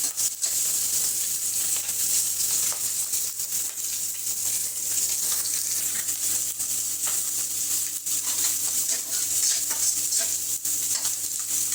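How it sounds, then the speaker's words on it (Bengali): Onion and garlic frying in a kadai wok for a dal tempering, giving a steady, dense sizzle with light stirring scrapes that holds evenly and fairly loud for the whole stretch, with no talking. "ডাল বাগার দেওয়ার জন্য যে কড়াই দিচ্ছি চুলায়, পেঁয়াজ আর রসুন ভাজতেছি"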